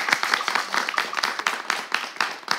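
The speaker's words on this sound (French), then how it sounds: "Merci de les applaudir, s'il vous plaît." A small audience applauding at a live hosted event, a brisk patter of individual hand claps that is close and uneven, with no voices.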